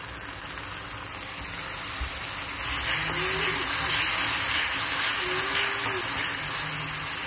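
A steady, loud sizzle-hiss rises as homemade chutney spice goes into softened onions frying in a pan, the noise thickening partway through and holding constant to the end.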